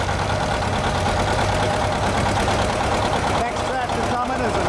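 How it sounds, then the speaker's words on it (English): A 1959 John Deere 730 diesel tractor idles steadily up close at an antique tractor and plow event, its dense, continuous engine rumble holding level throughout with a slight shift in tone near the end. "1959 John Deere 730 diesel, owned by Les Kleckner."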